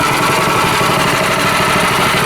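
A go-kart engine idles loud and close, a steady low mechanical rumble with continuous vibration and no voices over it.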